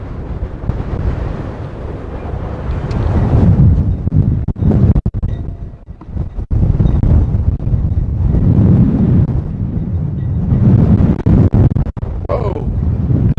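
Strong outdoor wind buffets the microphone in loud, sustained low rumbles and gusts, dipping briefly before surging back.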